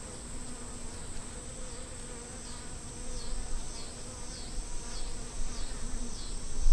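Honeybees buzzing steadily around an open hive as frames are worked, a dense continuous hum with individual bees swooping close past the microphone, growing louder toward the end.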